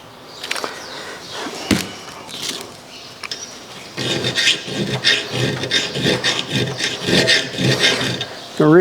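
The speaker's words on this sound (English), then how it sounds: "The reason I'm using the round file is it doesn't come to the end here with the grinder" A round file rasps along the edge of a steel mower blade, sparse scrapes at first and then steady, close back-and-forth strokes in a repeating rhythm.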